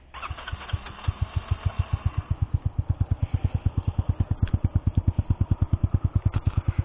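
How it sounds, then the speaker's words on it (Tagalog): Yamaha Mio Sporty scooter fitted with an Akil exhaust starts and settles into a steady idle, giving a close, even chain of low exhaust pulses with light mechanical clatter. "Pero yan yung tunog ng ating Akil exhaust."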